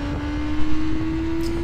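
A Yamaha Fazer motorcycle on the track at Le Mans holds a steady, droning engine note as it picks up speed again, fairly close and even in level, with wind noise around it.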